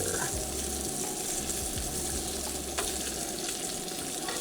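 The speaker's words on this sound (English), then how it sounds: "And while that bacon is finishing up to make Wyatt's breakfast" Bacon sizzles and crackles steadily in a pan on a camp stove in a van, a dense, close frying hiss with a faint watery bubbling beneath, no voices.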